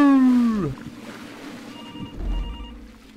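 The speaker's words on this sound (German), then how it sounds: "Kann jemand an dieses Telefon gehen?" A telephone rings in a video game, a loud bell-like tone that bends downward and fades. A murky, rumbling game soundscape follows with faint high tones.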